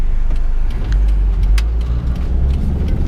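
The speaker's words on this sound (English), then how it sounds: "there's a lot of traffic." Steady road traffic on a coastal road heading out of Melbourne, with a continuous loud car engine rumble and tyre noise as vehicles pass close by, no talking.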